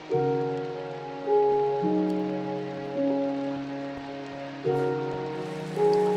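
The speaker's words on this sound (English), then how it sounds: "Sounds like it's raining really heavy." Steady hiss of heavy rain in Minecraft pours continuously beneath soft, sustained musical tones, even and unbroken throughout.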